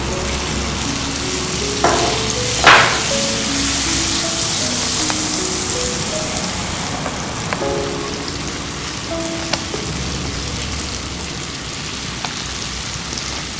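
Butter sizzling steadily in caramelized sugar over low heat while kaju toffee is made, a constant bubbling fry with a few sharp pops and clinks, no voices.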